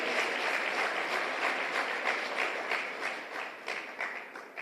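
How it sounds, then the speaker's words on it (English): Dense, sustained applause from a large crowd at a police graduation ceremony in Jamaica, steady and full throughout with a slight easing near the end. "Put your hands together for them."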